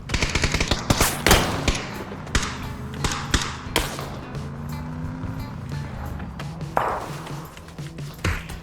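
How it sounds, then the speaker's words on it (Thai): Rapid gunfire in the battle-royale game PUBG: sharp, loud shots scattered irregularly across the clip, some in quick bursts, over a low droning game ambience. "ยิงปืนใส่ขามาสักนัด"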